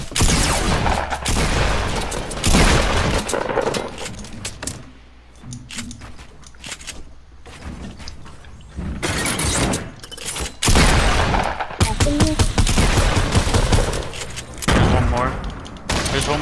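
Sustained minigun fire and other weapons rattle through a Fortnite Battle Royale squad match, long dense bursts of rapid shots broken by brief lulls, loud and close, mixed with impacts and crashes.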